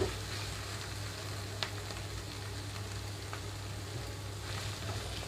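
Potatoes with fenugreek leaves fry in a pan, a steady close sizzle and crackle that runs unbroken throughout with a couple of faint clicks, no talking.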